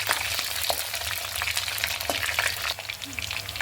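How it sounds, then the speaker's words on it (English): Green and red chillies sauté in a hot pan, giving a steady close sizzle and crackle throughout, with a few sharp spatula scrapes and stirs breaking through, no voices. "And we will just saute it like this for 2 minutes."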